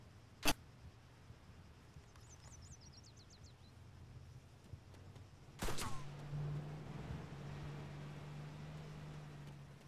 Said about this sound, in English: We're getting shot at, we're getting shot at.